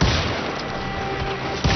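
Heavy booming gunshots in the Western video game Call of Juarez: Gunslinger, a dense rumbling blast filling the moment with a second hit near the end, no talk.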